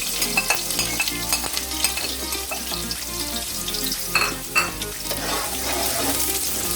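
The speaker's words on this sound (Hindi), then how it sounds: "ऑयल हमारा गर्म हो चुका है, अब इसमें मैं प्याज ऐड करूंगी।" Onions frying in hot oil for mutton pulao, a dense, continuous close sizzle with occasional stirring knocks and crackles, loud and steady without talk.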